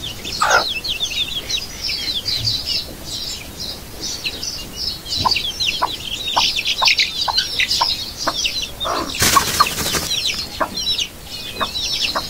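Aseel hens with their chicks at a village mini zoo, the chicks giving continuous high cheeping while short hen clucks recur nearby.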